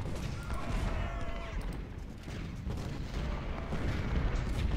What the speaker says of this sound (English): This is a great way to just see the power of a large amount of artillery and what they can do.